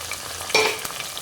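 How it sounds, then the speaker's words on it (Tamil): Onions sautéing in a pan hiss steadily while a ladle stirs them, one pronounced scrape and clink partway through, close and unaccompanied by voices. "கொஞ்சம் கரண்டியை வச்சு 2 கிண்டி விட்டுக்கலாம். எல்லாம் நல்லா வதங்கிருச்சு."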